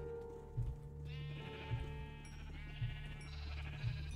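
Sheep bleat repeatedly at a farm during mating, the calls clear and fairly close, a handful of overlapping cries rising and falling over a steady low background hum.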